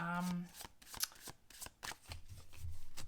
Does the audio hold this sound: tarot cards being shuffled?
yes